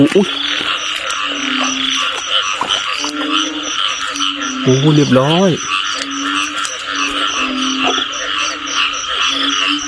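Frogs call loudly and repeatedly on a rainy night after the first heavy rain in a rural Thai village, with mating pairs nearby, as someone speaks briefly between the calls.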